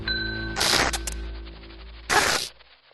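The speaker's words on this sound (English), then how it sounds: "Ring the bell." A bright metallic ring sounds twice, each a short loud burst with a sustained tone hanging between them.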